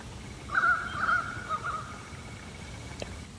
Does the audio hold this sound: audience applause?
no